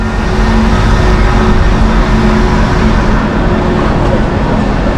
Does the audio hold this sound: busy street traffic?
yes